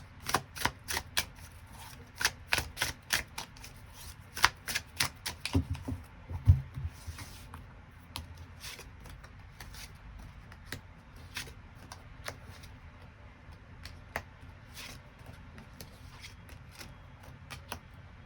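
Tarot cards are shuffled and drawn close up as a quick run of crisp, papery flicks and snaps. The action thins into scattered soft ticks and rustles, with no talking.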